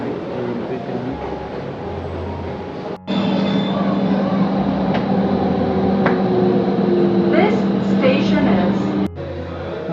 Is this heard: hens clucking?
no